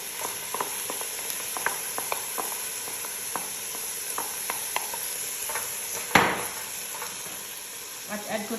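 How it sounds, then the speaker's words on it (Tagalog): Coriander leaves stirred into a pan, a low steady sizzle with light scraping strokes spread evenly throughout and one louder clatter partway through. "Ayan, mix ko rin siya"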